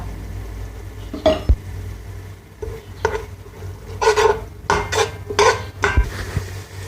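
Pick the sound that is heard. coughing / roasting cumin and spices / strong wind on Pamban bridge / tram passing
roasting cumin and spices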